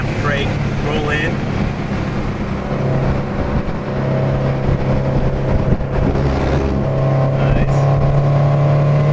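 A Cosworth supercharged Toyota FRS lapping Harris Hill Raceway, heard from inside as a loud, constant engine drone with shifting pitch as it accelerates and eases off, while a person briefly speaks.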